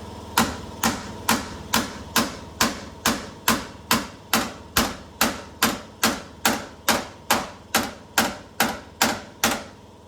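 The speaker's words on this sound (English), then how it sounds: "We'll see if we can hammer it in." Big hammer pounding a front-end part into place during an IFS front suspension install on a 1946 Ford coupe: about twenty loud, sharp metallic blows in a steady, even rhythm, close up with no talking.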